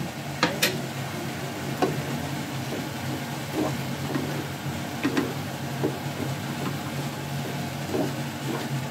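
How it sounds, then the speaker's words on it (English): Char siu sauce with soy is stirred in a pot over high heat: a soft, continuous sizzle broken by scattered scrapes and clicks of the utensil against the pot, close and moderately loud, without talk. "The pot is on high heat now. Just mix this all up."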